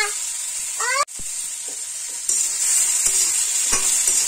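Tomatoes, raisins and dates stirred in a pan for homemade baby tomato sauce, a steady sizzle under a few scraping strokes of a spoon and one sharp knock against the pan.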